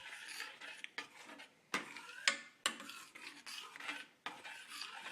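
A spoon scrapes and stirs through chunky homemade restaurant-style salsa in a bowl, with uneven rasping strokes and a few sharp clinks against the side, close and fairly quiet, with no talking.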